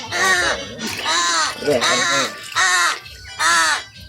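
A crow caws loudly five times in a steady, evenly spaced rhythm, each call harsh and close.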